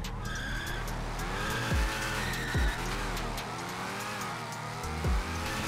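A car engine roars steadily while racing in the GTA 5 video game, with several swooping pass-by sweeps and bursts of tire squeal, loud and close throughout.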